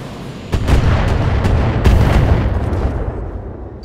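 Heavy shots from an artillery-style weapon in a video game about Locusts battling a King Crab, landing as two or three deep booming blasts over a loud, rumbling battle bed.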